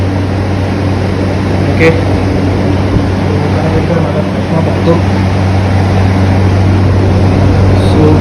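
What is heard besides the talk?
Novamax Rambo 75 desert air cooler fan on high speed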